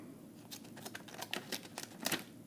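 Small scissors on a multi-tool from a survival tin snip several times in quick succession, crisp faint metallic cuts in a close, quiet room.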